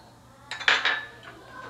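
A metal pan set down on a kitchen stove with a brief scraping clatter, followed by softer handling sounds, close and short with no talk.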